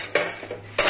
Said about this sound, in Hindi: अब सिस्टर करेंगी मिक्स मिक्स है ना